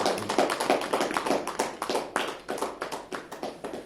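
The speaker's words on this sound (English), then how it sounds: "Can I request you all to have a big round of applause for Mr. Suresh Rajpura" Applause from a talk audience, a moderate group of clapping hands forming a steady stream of individual claps that stays close and fairly even, then thins slightly toward the end.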